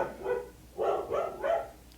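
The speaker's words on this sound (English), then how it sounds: "Pause for dog barking." A dog barks in three separate bursts, each a short cluster of woofs with pauses between, fairly close and alone over a quiet indoor background.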